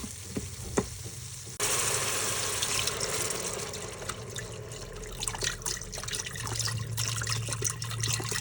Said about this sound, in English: that means it's time to add the ramen broth